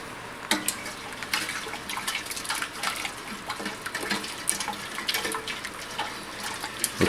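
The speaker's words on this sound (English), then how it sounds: "Give that a stir." Liquid sloshes and swirls in a pot as white sugar is stirred in for homemade root beer, with scraping clinks of a utensil, a continuous close stirring sound without any talking.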